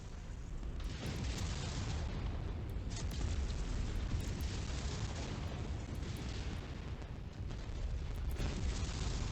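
A mech is destroyed during MechWarrior 5: Mercenaries gameplay, heard as a sustained, loud, rumbling roar of explosions and booming fire with brief sharper pops, continuous for several seconds with no speech.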